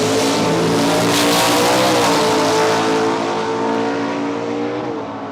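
A high-horsepower drag racing car at Palmyra Raceway roars close and very loud down the strip. The engine drone holds steady and shifts in pitch, then fades slightly at the end.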